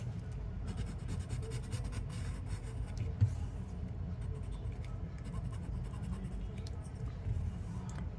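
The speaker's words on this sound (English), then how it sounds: "you can use your chalk pencil to highlight the other half" A chalk pencil scratches over paper while highlighting part of a Zentangle drawing, giving soft, close scraping strokes in a steady back-and-forth rhythm under a quiet room hiss.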